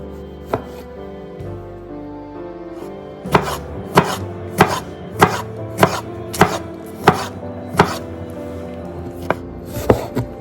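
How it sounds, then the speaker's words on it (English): A knife fine-chops onions on a board, with sharp, close, evenly spaced strikes, a few isolated cuts at first, then a steady rhythmic run of about a dozen chops. "Let's fine chop the onions."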